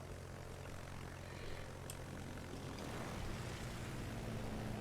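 Plane in a naval video game flying past as a steady propeller drone, with a continuous rumbling engine roar that swells slightly over a few seconds.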